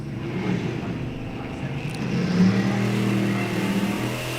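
Engines of an '81 Malibu and a manual-transmission '94 Camaro drag racing down the strip, a steady low roar that rises in pitch as gears are shifted, fairly distant, with faint talk over it.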